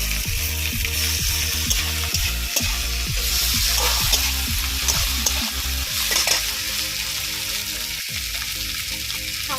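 Chopped tomato and ginger paste fry loudly in a pan for a rohu fish curry with potato and pointed gourd, a continuous close sizzle broken by repeated rhythmic scraping strokes of stirring.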